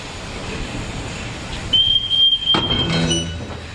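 A steam train on the Molli line has extra wagons coupled before departure: a sustained whistle tone over a rumbling idle, then a loud metallic clank and rattle of couplings nearby.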